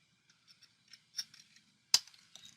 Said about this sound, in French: je vais prendre mes ciseaux et je vais couper